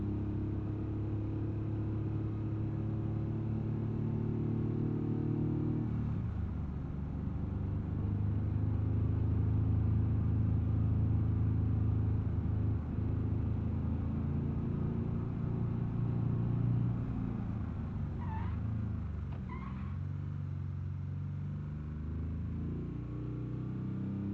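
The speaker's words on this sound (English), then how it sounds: "Sounds like the engine's starting to sputter." A car engine in BeamNG.drive hums steadily and loudly for the whole stretch, with a dip in tone partway through that suggests it is starting to sputter.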